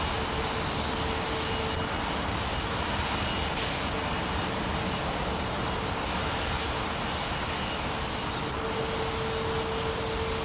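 A Boeing 777 airliner landing at London Heathrow on runway 27L produces a steady, continuous jet engine roar with a faint sustained whine, loud and unbroken throughout, with no talking.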